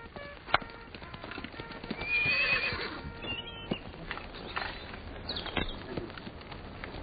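Horse hooves clop in an irregular patter up close, with a horse neighing in the middle and an occasional sharp knock, set against quiet outdoor background.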